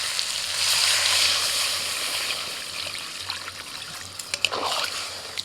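Water pours steadily into chicken curry cooking in a pan, a continuous trickle over faint sizzling that tapers off near the end.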